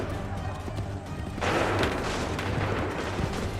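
A musket volley in Assassin's Creed III erupts as a loud, rumbling burst of massed gunfire midway through, following a quieter stretch with a low hum and voices.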